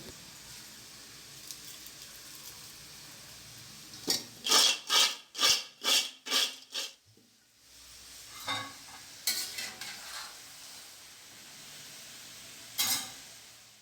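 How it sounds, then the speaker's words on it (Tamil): Fried cassava chips being tossed by hand with chili powder and salt in a bowl, giving a burst of rhythmic crisp rustling and scraping strokes, then quieter scattered rustles and one last brief toss, with no talking. "ஒரு பாத்திரத்தில் போட்டு அதுக்கு நம்ம தேவையான அளவு மிளகாத்தூள், வெறும் மிளகாத்தூளும் உப்பும் சேர்த்து கலந்து விட்டுடலாம்"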